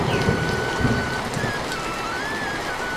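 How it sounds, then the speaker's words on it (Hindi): Heavy rain pours steadily on surfaces close by during a night storm, with thunder rumbling low beneath the downpour as a thin whistling tone drifts above it. "अचानक जोरदार बिजली की गड़गड़ के साथ मूसलाधार बारिश होना शुरू हो"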